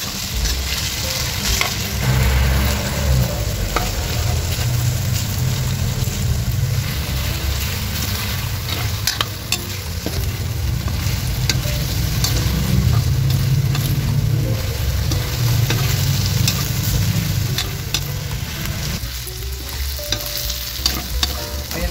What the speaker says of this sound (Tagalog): Igisa lang natin muna guys yung ating karne hanggang mag light brown.